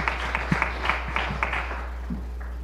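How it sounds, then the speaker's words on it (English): Scattered, moderate applause for an Accounting Club case study group at a student leadership challenge event: a thin patter of claps that tapers off toward the end. "One more round of applause for our Accounting Club case study group"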